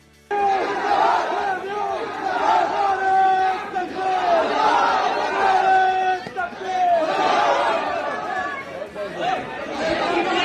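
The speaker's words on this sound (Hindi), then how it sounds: "अलीगढ़ मुस्लिम यूनिवर्सिटी में गणतंत्र दिवस पर नारा-ए तकबीर, अल्लाहू अकबर के नारे लग रहे हैं" A large crowd at Aligarh Muslim University on Republic Day chants Nara-e-Takbir and Allahu Akbar, loud rhythmic call-and-response shouts rising in waves throughout, with voices overlapping near and far.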